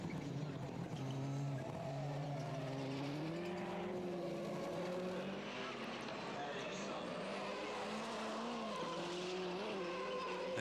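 Division 1 rallycross cars, including a Ford Fiesta chasing a Skoda Fabia, race at a European Rallycross final in Poland. Their engines drone and rise and fall in pitch in a steady, moderately distant roar under continuous commentary.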